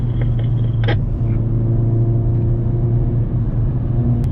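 A 2020 Hyundai Veloster N with an 8-speed dual-clutch transmission accelerates hard on a straight toward about 130 km/h, its engine a loud, steady, close droning roar heard from inside the car.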